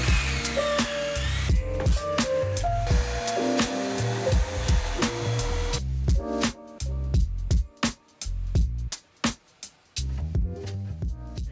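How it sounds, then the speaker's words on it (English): A power drill bores into a brick wall in loud, steady whining runs, then a shop vacuum whirs in short bursts to clear the dust from the holes before wall anchors go in, with clattering handling noises between passes. "From here, I drill, vacuum, and then place the anchor."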